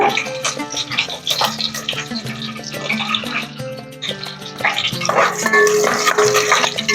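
Chillies and curry leaves sizzle in hot oil in a pan for egg rice, a steady, hissing crackle that runs throughout under soft background music.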